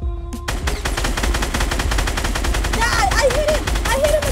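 Rapid automatic gunfire in a Fortnite match, a dense continuous burst running the whole time with game effects and whistling tones layered over it, loud and close.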